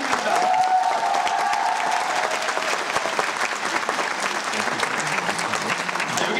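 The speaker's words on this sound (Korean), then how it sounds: "지금 휴양팀에서 박수 한번 드립니다." A theatre audience applauds steadily and loudly throughout a musical's curtain call, a dense wash of clapping from a large crowd with a few cheers mixed in.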